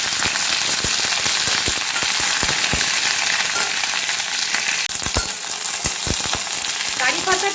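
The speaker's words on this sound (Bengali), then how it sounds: "এবার সর্ষেটা ধীরে ধীরে ফুটতে শুরু করলেই আমি দিয়ে দেব কারি পাতা।" Mustard seeds splutter in hot oil as a loud, constant sizzle peppered with sharp irregular pops, like rain on a surface, heard close and without talking.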